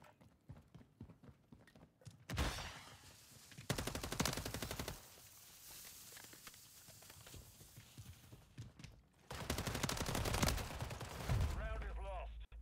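Video game gunfire comes in several dense bursts of rapid shots with quieter gaps between them, loud and close. Players talk at points across the exchange.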